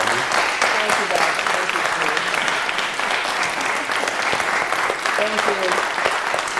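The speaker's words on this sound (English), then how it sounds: "So a big round of applause for you." An audience applauding after a pre-concert chat with a composer, dense sustained clapping from a crowd filling the room, with voices mixed in underneath.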